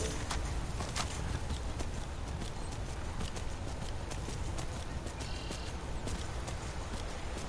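Arvok the horse trots through Skyrim, his hooves clip-clopping in a dense, steady rhythm over a constant layer of ambient noise, with no voices.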